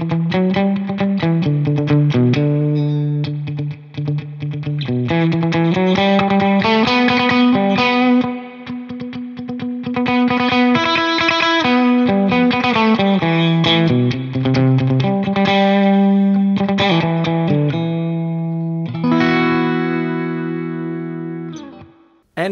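Electric guitar played through a Source Audio pedal combining spring reverb and tremolo, strummed chords and picked notes ringing with wavering, pulsing sustain and a splashy tail, continuous and close, with no talking.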